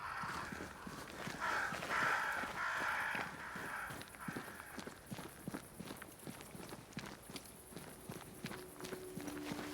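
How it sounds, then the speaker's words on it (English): Crows caw repeatedly in a video game forest scene with a great tree, harsh calls clustered early and then scattered, over steady footsteps or hoof-like clopping and ambient game sound. "Crows. They flock to that great tree up there."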